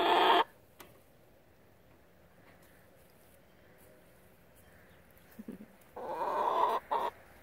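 Chickens in a backyard chicken yard on a sunny spring day give a few brief clucks and squawks, near and loud at the start and end, with quiet scratching ground noise between.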